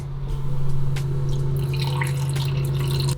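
Water poured into a creamy vegan lemon tahini sauce with lemon juice and maple syrup, a soft continuous trickle over a steady low hum, no talk.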